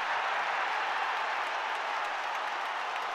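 Stadium crowd at Twickenham roaring and cheering an Ireland try during an England v Ireland rugby match, a dense, steady wash of cheers and applause that holds loud and unbroken throughout.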